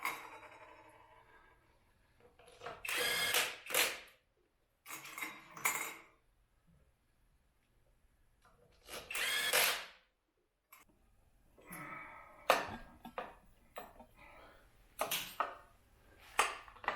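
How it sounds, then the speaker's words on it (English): Impact wrench tightening compensator and primary parts on a Harley-Davidson motorcycle, heard as several short, sharp metallic bursts separated by pauses, close and fairly loud with clattering tool and parts handling in between. "Use impact to tighten this stuff."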